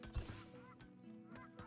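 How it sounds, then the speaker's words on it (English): Geese honk in the video game Farthest Frontier, a few short nasal calls over a steady low ambient game background, moderately faint and without talk. "Well, there goes the geese."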